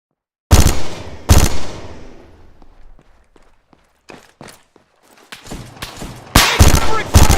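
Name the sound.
gunfire in the video game ArmA 3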